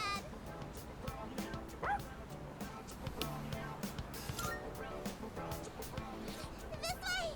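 An angry dog in the Persona 3 Reload video game, chasing someone after its tail was stepped on, gives repeated sharp barks and yips over busy game sound and music.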